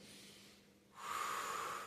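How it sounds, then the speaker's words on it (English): Slow breathing during a yoga roller workout, a quieter inhale through the nose followed by a louder, steady exhale through the mouth, close and alone. "you're doing the breathing technique in through your nose, out through your mouth"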